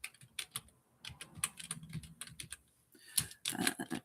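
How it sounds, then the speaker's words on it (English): Someone types an email address on a computer keyboard, with quick close key clicks in short irregular bursts and soft pauses between them, no voices. "let me just type it in here."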